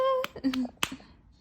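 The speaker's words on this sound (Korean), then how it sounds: "박수! 박수!" A few sharp hand claps ring out in a quick, uneven run, mixed with bright vocal sounds and a child-like voice, close and clear.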